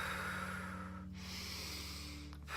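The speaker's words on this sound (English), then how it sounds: "you can really start breathing" Slow, deep breathing in during an emotional subconscious-reprogramming exercise, a soft airy inhale and a second breath near the end, quiet and close over a faint low hum.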